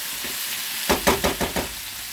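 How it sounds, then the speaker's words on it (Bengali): Dal and a chopped tomato are frying together in a pan. A soft sizzle is followed by a burst of several rhythmic scraping knocks as the mixture is stirred, then the sizzle continues steadily. "ডালটা দিয়ে ভাজবো, আর একটা টমেটো দিয়ে দিচ্ছি"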